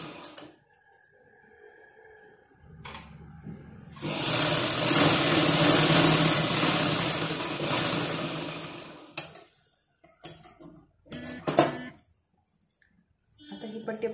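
A sewing machine runs steadily for about five seconds, stitching a fabric strip with a fast mechanical whir, framed by brief handling noises and quiet pauses.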